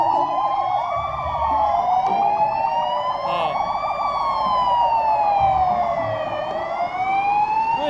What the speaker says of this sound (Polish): cztery radiowozy na bombach, pojechały gdzieś, nie wiadomo gdzie, nie wiadomo po co